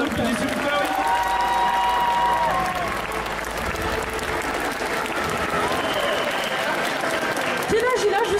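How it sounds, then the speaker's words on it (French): An audience applauds at an indoor festival cosplay contest, with steady clapping and some cheering under music, while a presenter's voice comes through the crowd noise. "Vous pouvez les applaudir bien"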